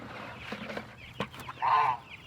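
Small young chickens at a big feeder make a few soft clucks and short calls, close by but quiet, with brief scratchy noises in between.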